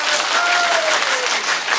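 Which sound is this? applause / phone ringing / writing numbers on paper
applause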